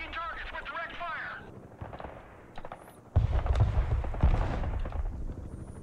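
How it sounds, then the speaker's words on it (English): Heavy artillery salvos in the Broken Arrow real-time strategy game, a loud deep boom landing midway followed by rumbling blasts and crackling impacts, with a radio-style voice chattering early on. "Artillery ready to fire, sir."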